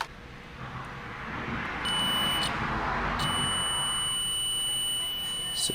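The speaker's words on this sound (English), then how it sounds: "with the multimeter, I'm going to check its continuity first" A multimeter set to continuity beeps while its probes test a relay, sounding a thin, steady electronic tone that turns on and off in short bursts over a faint background hiss and handling noise.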